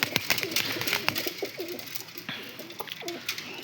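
White pigeons with white eyes cooing close by, several soft throaty rolling coos repeating over faint background noise, with a few brief rustles and no talk.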